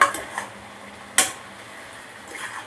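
A utensil clinks against a pot while chicken is mixed with turmeric, salt and ginger-garlic paste, a few scattered taps with one sharp knock, close and fairly quiet, no talking.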